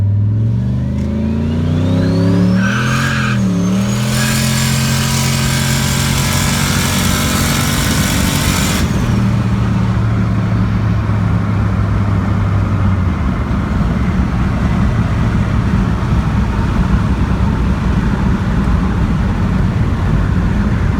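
A turbocharged truck running with only a catalytic converter and no muffler pulls away and accelerates through the gears, its loud raspy exhaust note rising in pitch with each shift, then settling into a steady drone while cruising.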